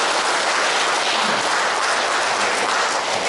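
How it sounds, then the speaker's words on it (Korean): A church congregation applauding at a Lenten special lecture, dense steady clapping filling the whole stretch at even loudness with no voices over it. "맞으시다면 다들 박수 한번 치시기 바랍니다."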